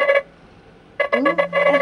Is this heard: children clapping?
no